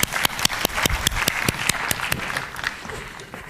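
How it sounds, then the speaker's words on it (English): A small audience at a presentation session gives a brief round of applause, sharp separate claps fading after a few seconds, fairly close and with no talk over it. "let's all give a round of applause for this wonderful group of people here"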